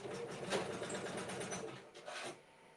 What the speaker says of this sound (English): It's still doing the satin stitching